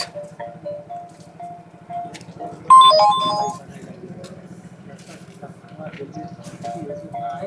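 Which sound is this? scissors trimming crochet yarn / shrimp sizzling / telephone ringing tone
telephone ringing tone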